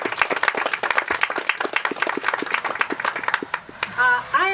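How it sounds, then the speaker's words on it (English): Applause from an audience at a community gathering, a burst of dense clapping that thins out toward the end as a voice begins speaking. "Can we give them a round of applause?"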